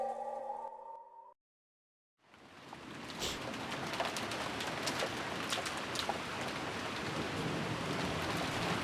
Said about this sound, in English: I love rain noises.